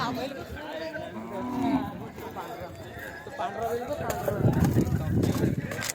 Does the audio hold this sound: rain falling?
no